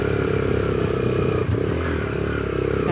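A motorcycle rumbles steadily over a rough, rocky mountain road in Broghil Valley, its engine droning close up with clattering and scraping from the uneven surface throughout.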